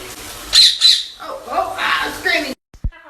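Hamlet, a pet parrot, lets out two loud, piercing screams close by, followed by a stretch of harsh, raspy squawking mixed with a person's voice, then a sudden cut to near silence.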